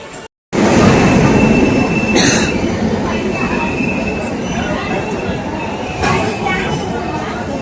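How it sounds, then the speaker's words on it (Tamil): A train rolls into a railway station in loud, rumbling approach, with wheel squeals and clattering cars, while people talk nearby. "இப்போ ஒரு ட்ரெயின் வரப்போகுது."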